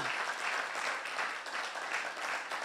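A church congregation applauds its workers with steady, dense clapping that swells and fades slightly, filling the room without any speech on top.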